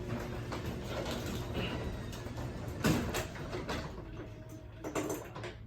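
A garage door mechanism runs steadily with a mechanical hum and rattling, plus a few louder clanks along the way, no talking.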